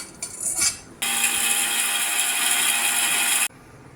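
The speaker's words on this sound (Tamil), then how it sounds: "மிக்சியில் போட்டு நல்லா கிரைண்ட் பண்ணிக்கலாங்க." A mixer grinder whirs loud and steady for about two and a half seconds, grinding roasted ingredients to a coarse semolina texture for Chettinad egg dosa, then cuts off abruptly.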